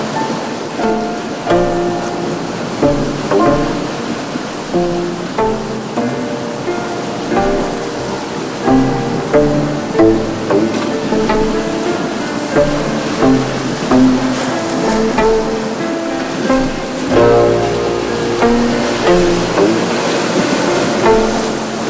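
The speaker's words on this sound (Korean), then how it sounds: "설도의 파도 소리는 구슬픈 검은 고 소리처럼 들립니다." Ocean waves at Seoldo island in Ulsan Dong-gu, Korea, surging and washing ashore in repeated swells, with steady surf noise rising and falling over the length.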